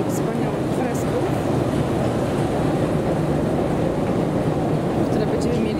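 A Stockholm metro train rumbles steadily through the underground, a continuous broad roar that stays level the whole time, with faint voices in the background.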